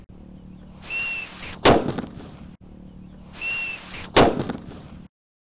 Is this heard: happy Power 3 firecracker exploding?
yes